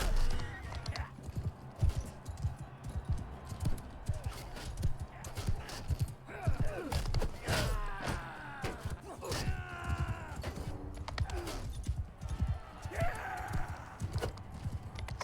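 Horse hooves clip-clop rhythmically in Mount & Blade II: Bannerlord, close and prominent, with occasional whinnies and groans, while someone talks over them intermittently.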